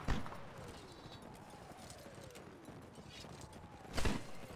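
Horse hooves clip-clop quietly in a video game battle, a faint rhythmic patter over low background noise, with a louder thud near the end.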